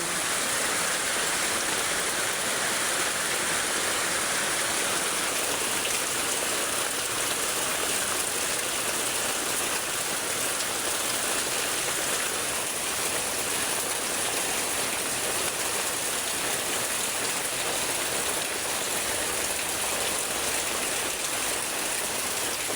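Heavy rain pours over rising floodwater in a flooded neighborhood, a dense, steady roar of rushing water and rainfall that stays loud and unbroken throughout, with no voices.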